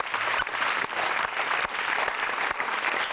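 Sustained clapping from a TV game show audience, dense and fairly loud, with a few louder individual claps standing out in the wash.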